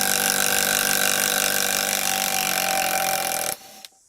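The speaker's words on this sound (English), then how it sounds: "Let's just start by seeing if this little CXT, which is super light, can get these screws out of here." A light Makita CXT impact wrench drives out long screws, roughly five inches, with one loud, steady hammering whirr lasting several seconds before it cuts off abruptly.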